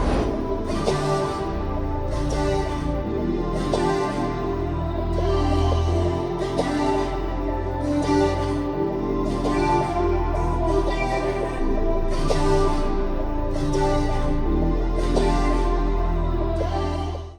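A looping vocal sample pitched down three semitones plays in repeating phrases over a steady low bass bed, loud and continuous with no speech over it.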